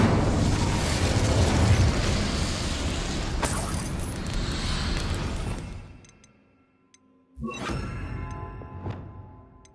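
An Incendio fire spell cast in Hogwarts Legacy, a loud roaring burst of flame that fades into near silence, followed by a sharp whooshing crack and renewed rushing fire.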